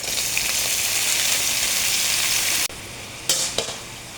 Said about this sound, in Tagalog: O, lagyan na natin yung ampalaya.